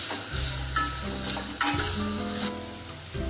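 Onion and carrot sautéing in a pan for vegetable fried rice, a close bright sizzle broken by several scraping stirs and a sharp utensil clink, no one speaking.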